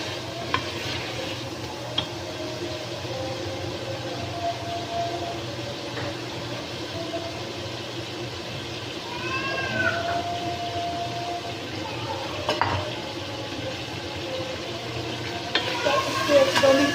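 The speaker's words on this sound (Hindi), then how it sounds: "टमाटर को हम तब तक भूनेंगे जब तक इसके ऊपर ऑयल नहीं आ जाता।" Tomatoes fry in oil in a pot for aloo gosht, a steady low sizzle under repeated stirring scrapes, with a few brief higher squeaks mixed in.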